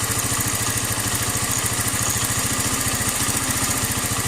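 A motorcycle fitted with a Nibbi 28mm carburetor idles fast and steady with the idle set high, a close, continuous rapid putter with no speech.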